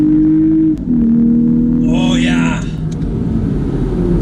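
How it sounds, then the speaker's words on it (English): The engine of a 2021 Lexus IS350 climbs in pitch as it revs partway through, under a person talking about the car. "So it definitely has a high revving engine that is really, really nice to wind out."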